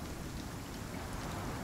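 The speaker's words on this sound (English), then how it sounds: "but this is just rain" Steady rain falls in a video game set on a strange planet, a soft, even, continuous hiss at low volume with no voices.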